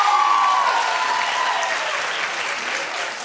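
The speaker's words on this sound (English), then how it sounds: "Just clap if you heard Yanny." A studio audience claps in a burst that is loudest at the start and then eases off slightly while staying dense, with a short whistle rising early on.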